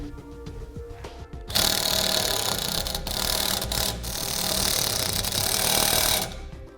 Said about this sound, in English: And I'll use these self-tapping screws to attach. You'll need a 3/8 nut driver or socket for this.